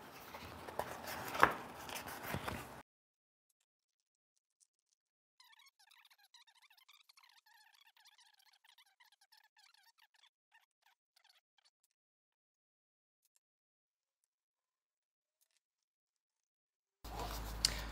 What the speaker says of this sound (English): I'm gonna tape them down underneath here just to make sure they don't pull up or anything or get damaged